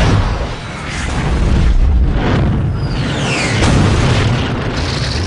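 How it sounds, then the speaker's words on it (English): Shock Blaster weapon firing in the Ratchet and Clank video game, heavy booming blasts rolling one into another with crackling, whooshing energy streaks, loud and dense throughout. "today we're trying out the new Shock Blaster from Ratchet and Clank Up Your Arse"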